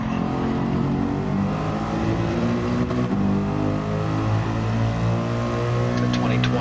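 Mercedes-AMG GT3 Evo race car engine in Gran Turismo 7, running on The Mountain track, a loud, sustained droning roar with rising and falling pitch as the car accelerates through gears.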